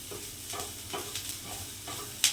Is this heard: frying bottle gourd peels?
yes